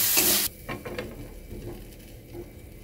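Chopped onion stirred with a spatula in a hot pan for a chicken filling, a loud burst of sizzle at first, then softer frying with several spatula scrapes and knocks.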